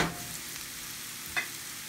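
Ramps and mushrooms fry gently in peanut oil and butter, a soft, even sizzle close by with one brief scrape of stirring partway through.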